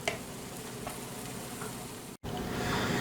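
Sweet potato and zucchini pancakes fry in olive oil in a pan, a continuous close sizzle with a brief cut in sound partway through, no talking.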